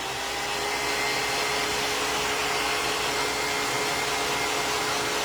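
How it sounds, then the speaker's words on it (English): A hair dryer blows steadily on wet paint on a spooky-scene painting, a loud continuous airy whoosh with a faint motor whine, unbroken throughout and with no voices. "I'm going to blow dry this so that way I can add in my windows"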